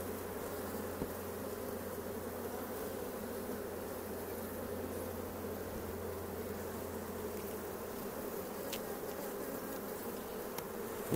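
Honeybees buzz steadily inside and around a hive being checked, a dense continuous drone close by with no talking.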